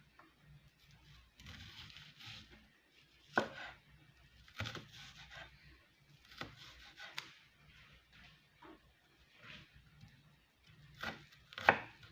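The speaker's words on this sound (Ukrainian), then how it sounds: "Цибулю картоплю я поріжу дрібним кубиком." A knife dicing onion and potato on a cutting board, irregular bursts of quick chopping taps with brief pauses between, fairly close and quiet.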